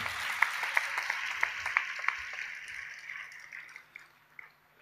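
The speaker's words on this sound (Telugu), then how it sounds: "చప్పట్లు కొట్టి దేవుని మహిమ పరుద్దామా?" A church congregation claps together in worship: faint, steady rhythmic handclaps in a reverberant hall that fade after a few seconds.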